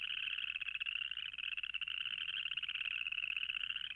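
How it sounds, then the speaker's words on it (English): A chorus frog calls in a continuous trilling chorus, a steady raspy pulsing buzz that carries on unbroken and fairly loud, with no other sounds. "is our chorus frog."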